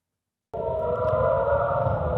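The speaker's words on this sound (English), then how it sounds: "Air raid sirens sounded in areas of central and northern Israel." An air raid siren wails over central and northern Israel during a rocket barrage from Lebanon, beginning abruptly after silence and holding a loud, steady tone.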